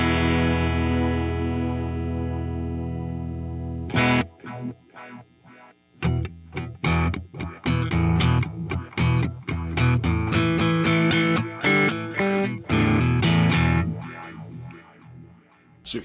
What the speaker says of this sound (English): And here's Echo Filter